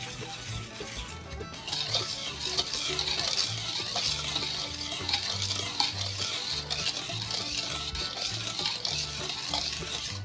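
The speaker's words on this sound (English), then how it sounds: "you want to take a whisk and whisk together all of your dry ingredients" Dry ingredients for Irish soda bread, flour, kosher salt, baking powder and baking soda, get whisked in a bowl, a continuous close rhythmic scraping and swishing with no talk.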